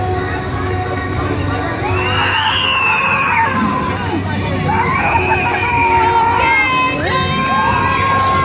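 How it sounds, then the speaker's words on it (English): A crowd of riders on the Untamed roller coaster at Canobie Lake Park shrieks and yells in long rising and falling waves, loud and continuous over a rumbling background. "Just scream real loud, guys. I want to hear you scream."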